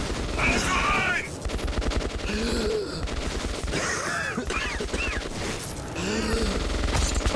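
Bursts of gunfire from the video game Metro 2033, played on Ranger Hardcore, crackle loudly through the clip amid game sounds, with a player's gasps and voice breaking in now and then.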